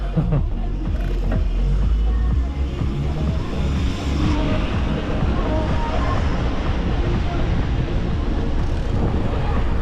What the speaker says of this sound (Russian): Ветер здесь.